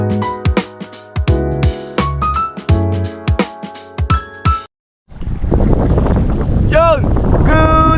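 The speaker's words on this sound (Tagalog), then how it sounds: "Medyo malakas ang hangin, pasensya na kayo. Dinig na dinig nyo yung hangin." Strong wind at sea buffets the microphone on a small fishing boat, a loud, rough roar in the last few seconds after a short silence, preceded by unrelated tonal sounds.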